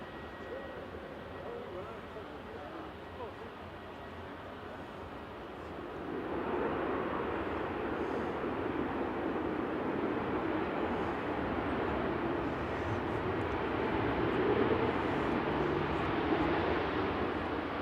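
A Jet2 Airbus A330 airliner at Manchester Airport gives a broad, steady roar that swells louder about a third of the way in and holds, with people talking over it.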